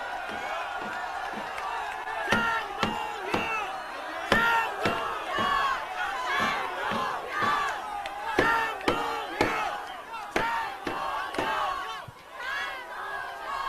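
A rally crowd at a political protest event cheers and shouts while clapping, loud and sustained, with sharp claps and collective yells rising and falling for several seconds.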